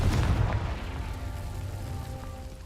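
Confringo explosion spell in Hogwarts Legacy lands with a deep booming burst that rumbles loudly at first, then fades over a couple of seconds under a faint ringing tail.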